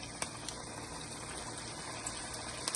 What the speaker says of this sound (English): you drop it in the oil carefully. So you see it's frying now.